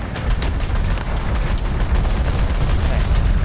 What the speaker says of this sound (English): Don't worry, it's only the anti-air gun.